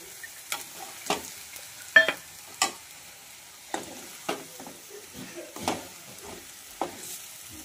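Eggs go into hot spiced masala in a pan for a special egg curry, with bursts of sizzling and stirring scrapes coming at irregular intervals over a quiet background.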